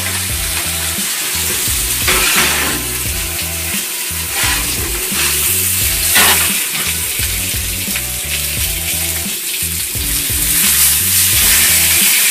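Loud, continuous sizzling of steaks searing in a very hot pan, crackling and spitting close up without pause.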